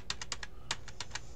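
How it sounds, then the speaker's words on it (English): Eight quick clicks of a computer keyboard key, pressed in two rapid groups of four, close and crisp with quiet room tone between. "I'm gonna show you another keyboard equivalent right away, the A key."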